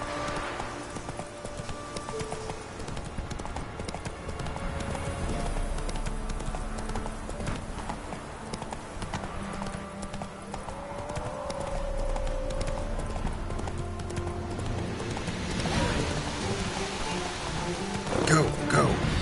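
Roach the horse galloping in The Witcher 3, a continuous drumming of hooves under a rain-like wash, with a brief voice near the end.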